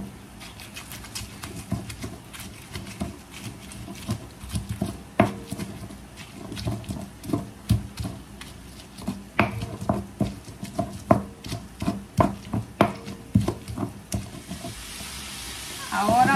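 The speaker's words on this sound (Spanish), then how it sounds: "vamos a moler aquí lo que ya tenemos asado. Primero los chiles y el ajo y la cebolla." Roasted chiles, garlic and onion are ground by hand with salt, giving a steady series of gritty scraping and knocking strokes at close range, fairly quiet and rhythmic.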